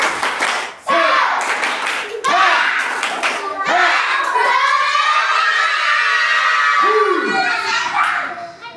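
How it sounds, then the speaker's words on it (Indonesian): A boys' group performs the tepuk semangat chant-clap in a prayer room, with sharp group claps and thumps mixed with loud children's shouting voices in a rhythmic burst lasting several seconds. "Sekarang kelompok putra, tepuk semangat."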